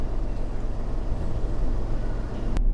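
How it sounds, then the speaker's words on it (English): A Smart Fortwo car drives along, a faint steady engine and road hum heard from inside the cabin, with a brief sharp click near the end. "Now let's jump in and take it for a drive"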